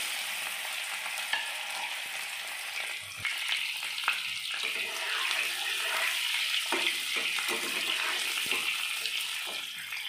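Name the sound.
small potatoes frying in oil for egg curry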